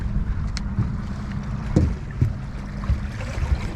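An outboard motor on a 16-foot Lodge boat with a new bow mount, its prop blowing out of the water; a steady low engine drone with rough bursts and surges near the end, recorded close with some wind.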